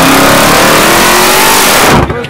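Loud, close car engines roar and rev at a highway car meet, a sustained high-pitched blare of accelerating motors with tire noise that cuts off abruptly at the end, with people talking faintly under it.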